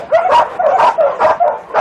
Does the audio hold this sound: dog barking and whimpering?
yes